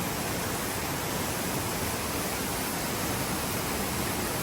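A waterfall roars as steady, dense rushing water, loud and unbroken throughout with no voices.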